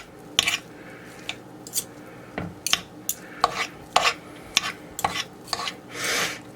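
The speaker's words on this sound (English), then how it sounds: "when you're shredding your meat, just take 2 forks, start pulling apart" Two forks pull apart well-cooked beef for shredded beef tacos, producing scattered clinks and soft scrapes of metal tines against meat and dish at an irregular rhythm, fairly close, with no talking.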